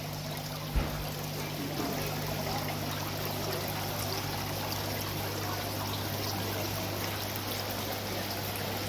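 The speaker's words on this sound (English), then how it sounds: "So it's like string, the water is actually flowing down string." A garden waterfall feature at a garden centre sends water trickling down strings, making a steady, close, continuous splashing wash with a low hum underneath and one brief knock near the start.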